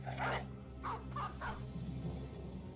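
A dog barking in the video game Battle Brothers: four short, gruff barks in quick succession, moderately close, over a steady low in-game background hum.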